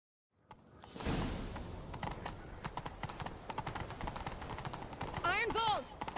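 Horse hooves galloping in The Witcher 3: Wild Hunt, a fast run of clip-clop beats that starts after a brief silence and keeps up steadily, with game sounds and a short whinny-like call near the end.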